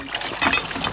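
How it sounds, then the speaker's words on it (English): Water flows down in a brief, steady rushing trickle, fairly close and clear, with no talk over it. "See the water coming down?"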